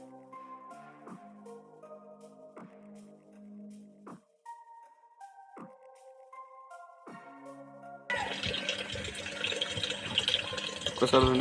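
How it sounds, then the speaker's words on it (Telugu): A newly bought washing machine plays a sequence of electronic beeping tones, then water starts rushing loudly into the drum as it fills automatically. "ఒక్కసారి నుండి వాటర్ అయితే ఫిల్ అయిపోతుంది. ఆటోమేటిక్ తీసుకుంటుంది వాటర్."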